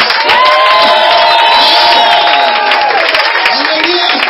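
A church congregation cheers and acclaims at loud, steady volume, a dense crowd roar with shouts and whoops running through the whole stretch.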